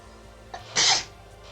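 A single sharp sneeze from a character in the game Danganronpa 1, close and fairly loud, in a quiet scene with no talking.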